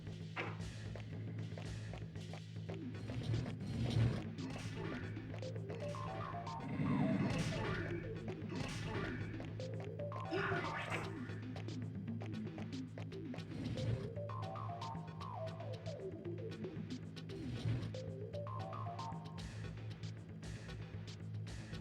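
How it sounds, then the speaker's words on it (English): Grenades from an enemy in a video game burst in a string of heavy, booming explosions, with larger blasts around 4, 7, 14 and 18 seconds, set over a steady low hum and busy game effects. "The explosions from the grenades from this guy are just ridiculously gigantic."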